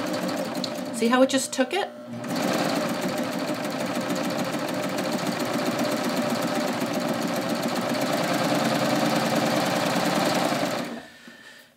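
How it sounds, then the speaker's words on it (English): Babylock Ovation serger running steadily for about eight seconds as it sews and its knife trims fabric, a loud continuous mechanical whir close by, with brief talk before it starts. "Watch what happens when I start serging."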